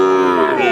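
A single short, loud moo from cattle at a cattle market, close and resonant, cut off after less than a second.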